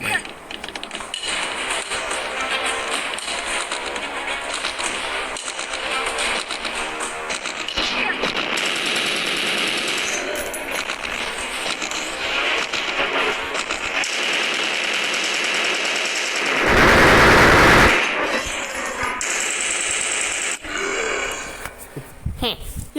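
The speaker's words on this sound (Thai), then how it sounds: "กระหน่ำยิงซะไม่ยั้งเลย" Machine gun fire in the video game Mutant Zone, heard as long, relentless rattling bursts of rapid shots, loud and continuous with game sounds and a voice woven in.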